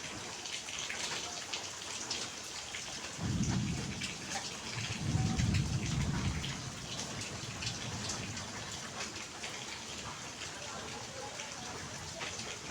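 Steady rain falls in a rainy-day outdoor scene where a pigeon sits getting soaked, a continuous hiss of drops with a couple of low rumbling swells in the middle.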